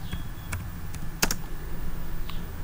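A command is typed on a computer keyboard, a short run of crisp separate key clicks with a brief cluster of quicker taps in the middle.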